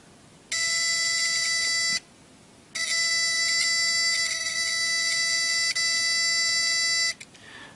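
A harsh homemade battery-powered alarm buzzer blares in two long steady bursts with a short gap between, loud and close, cutting off abruptly.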